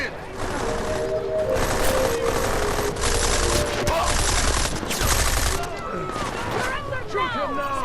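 Rapid automatic gunfire in Deus Ex: Mankind Divided rattles in loud, dense bursts through most of the stretch, with shouting voices over the shooting and whooshing effects near the end.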